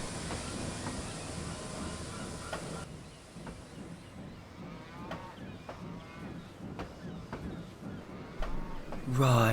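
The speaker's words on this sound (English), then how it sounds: "Thomas went to shunt the next local train." A small engine shunting coaches in an animated railway story, a rhythmic rumble and clanking of rolling stock with wind-like noise, under narration and character voices.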